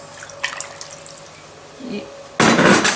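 Water poured into a mixture containing olive oil in a home kitchen, a sudden loud splashing pour that starts late and runs steadily to the end after quiet clinks and light kitchen noise.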